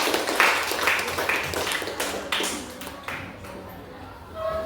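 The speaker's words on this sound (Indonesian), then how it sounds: "tepuk tangan untuk penutup." Small group of students clapping at the close of a classroom discussion on prayer and remembrance, a brief burst of applause that fades, with a voice heard near the end.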